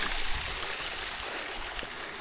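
Water flows through a flooded rice paddy field in the Konkan countryside, a steady, soft rushing trickle that continues evenly throughout.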